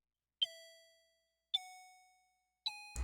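Three dry, bell-like plucked notes from the Expand plugin's Woody preset without Guitar Rig, each struck cleanly and fading out before the next, soft and sparse, with a brief burst of another sound cutting in at the end.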